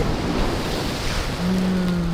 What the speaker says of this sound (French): Ouais, elles vont faire 4 mètres les vagues